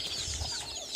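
Chickens clucking softly on a permaculture farm in Laikipia, Kenya, a steady low murmur of hens heard at a modest distance with no talk over it.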